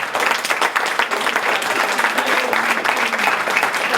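Close, lively audience applause at a hackathon presentation, with dense rapid clapping from a small crowd holding steady throughout and a faint murmur of voices underneath.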